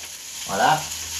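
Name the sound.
water added to a hot pan, sizzling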